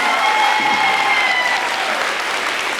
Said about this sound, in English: Let's give Ms. Kimball's whole class a round of applause.